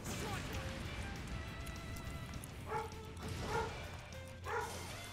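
Dogs bark in the background of a home gaming livestream, a few short muffled bursts spaced apart in the second half, set under steady game sound and low voice murmur.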